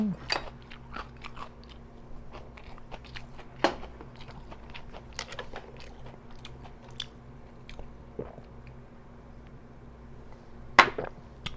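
Kimchi pork belly being eaten with a dipped Cheongyang chili pepper: quiet, close crunchy bites and intermittent chewing spread across a hushed room.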